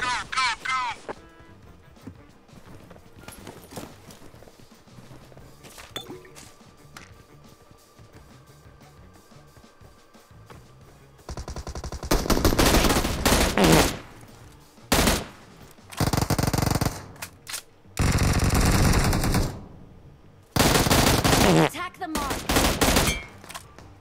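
Bursts of AKM assault rifle fire in a video game, several loud automatic volleys in quick succession over a quieter stretch with background game sounds.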